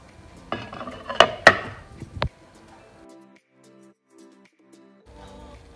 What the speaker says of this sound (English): it's a good chance just to give it a really good stir and then continue the cooking process